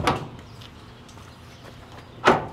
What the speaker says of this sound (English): Door off.